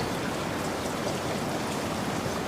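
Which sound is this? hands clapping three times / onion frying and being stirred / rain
rain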